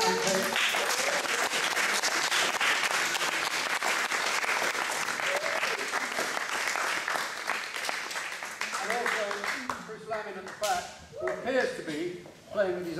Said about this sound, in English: We'll have a round of applause before we start.